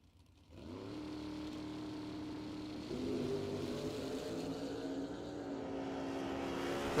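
A Monza and a Mustang drag racing car launch down the strip, engines bursting from near silence into a loud, sustained roar that climbs and holds as they accelerate away, with no talk over it.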